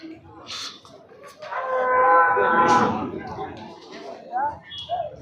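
A bull lows loudly at a busy open-air cattle market in Punganur, Chittoor district, one long harmonic moo rising over background crowd voices and people talking nearby.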